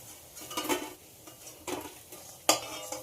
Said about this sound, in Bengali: একই রকমভাবে বাকিগুলোকেও ভেজে নেব।